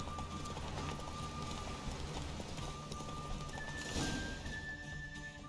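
Horse hooves clip-clopping at a steady gallop in the video game Witcher 3 during a horse race, a continuous rhythmic thudding under game music and ambient sound.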